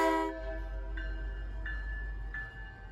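A train horn sounds a long tone while the train passes a railroad crossing on the Grand Junction line in Boston, followed by three fainter tonal pulses over a steady low rumble.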